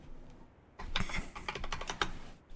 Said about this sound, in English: Give me a moment. I'm typing.